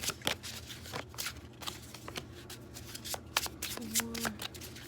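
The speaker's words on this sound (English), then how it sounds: "Use these clarifying cards." Tarot cards shuffled by hand in quick riffling bursts, papery flutters and soft slaps recorded up close, with brief moments of someone talking quietly.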